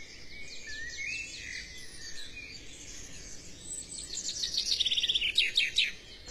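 Goldfinches among dense trees chirp in quick, high twittering bursts, sparse at first and then a rapid, louder run of repeated notes near the end, with no talk.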